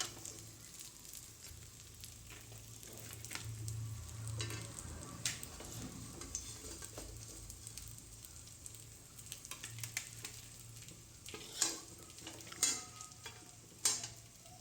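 Fish fries in a kadai for an Odia fish curry with a soft, continuous sizzle and crackle, quiet and close, broken by a few sharp utensil clinks toward the end.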